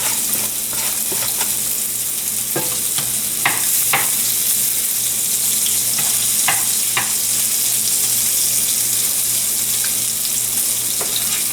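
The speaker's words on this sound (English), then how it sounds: "I'm going to add the garlic back into the pan" Loud, continuous sizzle of garlic frying in a pan alongside tuna steaks, with scattered scraping and stirring clicks through the frying hiss.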